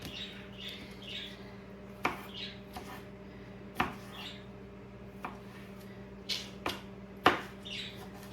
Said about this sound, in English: Chop up my tomato in the meantime.